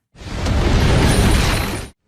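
A loud explosion from Soul Land, a Chinese donghua: a soul blowing apart and wrecking a bedroom, one dense roaring burst with shattering debris that holds for nearly two seconds, then cuts off abruptly.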